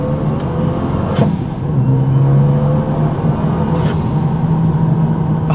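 A tuned Renault Megane RS RB8 pulls at full throttle, a loud sustained engine drone heard from inside the cabin with rising tonal whine and brief shifts in pitch.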